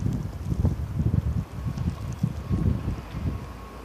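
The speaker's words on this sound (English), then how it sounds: "You can see it blowing in the wind." Wind gusting through a Hamilton snow storm in February 2015, a low, buffeting rumble that swells and dips in uneven surges, with wind noise hitting the microphone.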